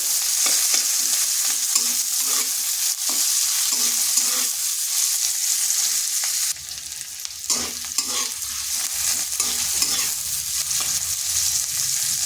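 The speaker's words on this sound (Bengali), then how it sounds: "পেঁয়াজটা হালকা একটু ভেজে নিচ্ছি" Sliced onions and three green chilies sizzle in hot oil in a pan, a steady bright frying hiss broken by repeated scrapes and clinks of a spatula stirring, close and alone with no voices.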